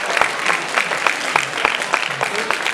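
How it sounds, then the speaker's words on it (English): An audience applauds at a tiger show at a Gold Coast theme park, a sustained burst of clapping with crowd murmur and a voice talking over it. "How about a huge round of applause?"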